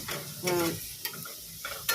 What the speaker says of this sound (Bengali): এমনি 5 ফোড়ন শুকনো লঙ্কা ফোড়ন দিয়ে